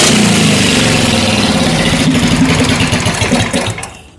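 Carbureted engine of a kart cross revving close by, loud and raw with pulsing throttle blips over a rough idle, then dropping away and falling quiet at the end.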